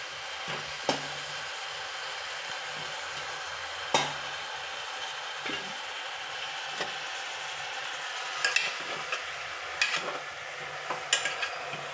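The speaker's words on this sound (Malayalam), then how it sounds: "നന്നായിട്ട് ഇളക്കി യോജിപ്പിച്ച്" Chicken being stirred with spices in a pot for chicken curry, a soft continuous sizzle with scattered spoon scrapes and taps against the pot, a few quicker clusters toward the end, close and fairly quiet.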